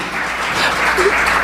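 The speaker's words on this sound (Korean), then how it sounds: "이때 박수 한번 쳐줘 원합니다." Steady crowd applause at a church worship service fills the clip, a dense wash of clapping from many hands at even loudness throughout.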